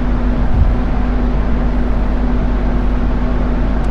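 A loud, steady hiss of rushing air from the brake compressor of a GG-1 electric locomotive, over a low, constant hum, unbroken for the whole stretch.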